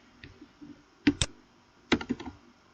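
Someone types on a computer keyboard in a short, sparse burst: a few soft taps, then two sharp clusters of clicks, close and fairly quiet with no talking.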